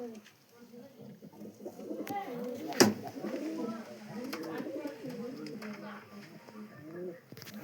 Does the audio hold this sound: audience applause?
no